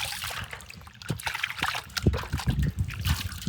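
Water trickles and splashes in short irregular bursts, fairly quiet and close, with occasional faint sloshing.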